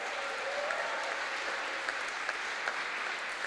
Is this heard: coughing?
no